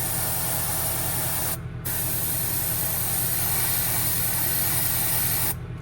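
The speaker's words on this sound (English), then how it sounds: "I'm still spraying a little bit forward to try to keep from blowing back on the rest of the bait." An airbrush sprays paint onto a shad fishing lure in a steady, close hiss over a low hum, broken by two brief pauses in the spray.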